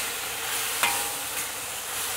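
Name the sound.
stirring scallions into eggplant with garlic sauce in a wok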